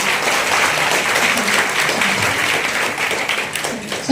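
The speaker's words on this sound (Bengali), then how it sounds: "একটু জোরে কর হাত তালি দিয়ে ওনাকে স্বাগত জানাবো" An audience at a legal awareness camp on women's rights claps to welcome a judge, a dense, loud, sustained round of applause that stays steady for about four seconds before tapering slightly at the end.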